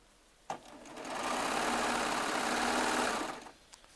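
A Baby Lock Triumph serger runs at speed sewing charm squares together, a steady close whirring hum that builds up after a click and runs for about three seconds before winding down.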